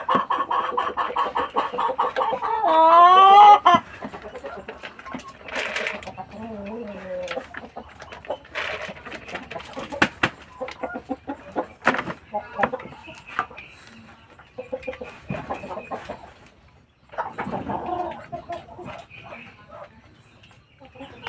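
Hens at a backyard farm cluck and squawk while being fed, close and busy in irregular bursts, with a person talking at times over the birds.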